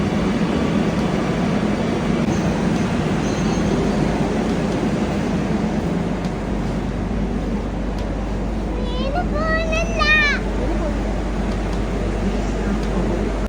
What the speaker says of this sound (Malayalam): Train will come now.